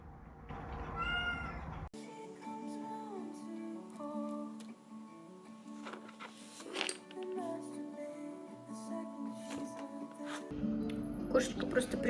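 A pet cat meows indoors, with drawn-out, tonal calls at a modest level, mixed with background hum and other household noise, while a person speaks softly.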